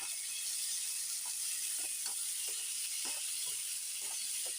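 Onions sautéing in a pan for spicy kara chutney give a steady, close sizzle and hiss, with scattered soft clicks from stirring and no talk.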